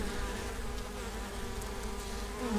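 Honey bees from a hive being removed in November drone in a steady, close, continuous buzz that fills the whole stretch, with no talking.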